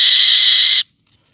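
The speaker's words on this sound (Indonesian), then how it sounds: "Ini kayaknya ada alap-alap liar nih suara dia." A wild falcon gives a single loud, high-pitched call held steadily for under a second, then cuts off into silence, heard near a falconry training session.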